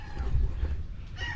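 A backyard gamefowl chicken clucks in short, close bursts, brief and fairly loud, with some faint background voices.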